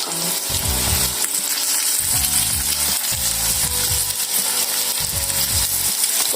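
Steady, loud sizzling of liver frying in a hot pan, with occasional scraping and turning sounds throughout.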